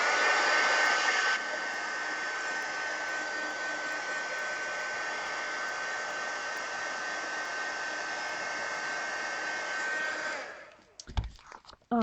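A dryer blows steadily on gloss varnish brushed onto an altered book page, a close, even whirring roar that runs for about ten seconds before cutting off, followed by brief handling clatter.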